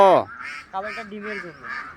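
Campbell and Belgian ducks quack in a short series of nasal calls, one loud burst up front followed by several softer, close quacks overlapping one another.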